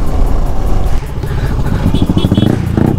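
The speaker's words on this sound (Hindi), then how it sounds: "भाई क्या बाइक है यार, वाह, काफ़ी स्मूथ है, काफ़ी अच्छी लग रही है चलाने में।" A Kawasaki Z900 with a full exhaust being ridden, a loud, close, rough engine rumble with revving pulses and some clatter, mixed with wind noise and speech.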